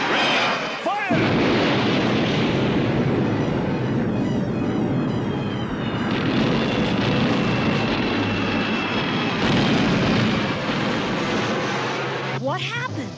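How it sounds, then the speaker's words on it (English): Missile explosions in a G.I. Joe cartoon roar as a dense, continuous loud blast-and-rumble wash for over ten seconds, with a brief swooping tone at the start and end and voices mixed underneath. "Incredible explosions."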